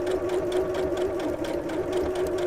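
A sewing machine stitches steadily along a marked line under the presser foot, its motor a continuous close, even hum with rapid needle rhythm and no pauses.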